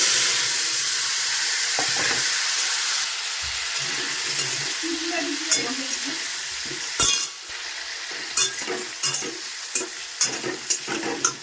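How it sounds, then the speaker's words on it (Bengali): Cut potatoes and tomatoes dropped into hot oil with cumin seeds and a bay leaf, a loud continuous sizzle that thins out, followed by clattering stirring strokes against the pan. "কেটে রাখা আলু টমেটোগুলো দিয়ে দিব এখন আমি ভেজে দেব"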